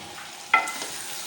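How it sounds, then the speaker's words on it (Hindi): Potato slices fry in oil in a pan while a spoon stirs them, giving a quiet sizzle with one sharp scrape of metal against the pan. "हम बहुत ही एहतियात से इसका चम्मच चलाएंगे और इनको 1 से 2 मिनट के लिए हम इनकी भुनाई कर लेंगे आलू डालने के बाद"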